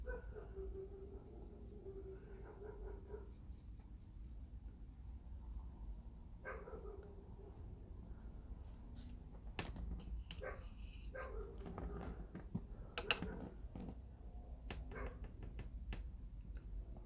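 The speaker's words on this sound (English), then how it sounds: "I swear that dog needs a playmate." A dog barks in short, scattered bursts, faint and somewhat distant, against a quiet room-tone background.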